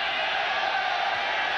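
Crowd noise at a boxing match in a video game, a steady roar of cheering and shouting from a large audience, sustained and loud with no breaks.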